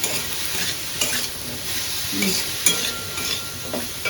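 Curry being stirred and sautéed in a pan sizzles steadily up close, with periodic scraping strokes of a spoon against the pan every second or so.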